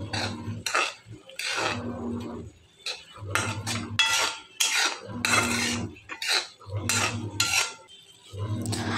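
A spoon stirs chili powder into a sprouted-bean curry in a metal pot, making repeated close scraping and clinking strokes in an uneven rhythm with short pauses between them.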